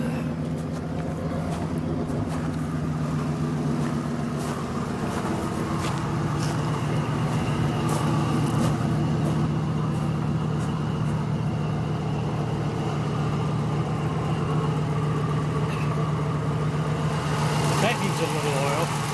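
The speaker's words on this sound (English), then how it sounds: "You can hear the motor running." A 1974 Oldsmobile Cutlass engine idles steadily under the open hood, a continuous low rumble running nearly twenty seconds with a speaking voice over it.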